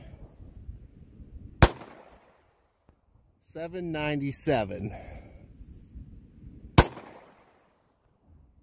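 Two sharp, loud gunshots from a Ruger .45 ring out several seconds apart, with someone briefly speaking between them.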